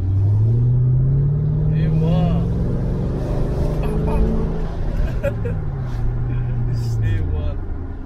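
A cheap used Mercedes-AMG with 350 hp and 510 Nm is driven, its engine droning loud and close, pitch climbing and falling with the throttle while people talk over it inside the car.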